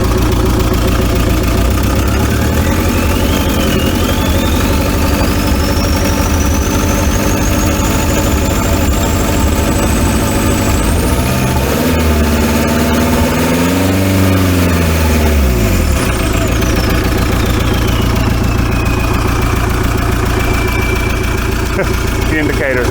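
A VW T3 TDi diesel engine idles with no coolant in it, a loud, steady, close running drone that continues throughout with a rising whine above it and a brief warbling tone near the middle.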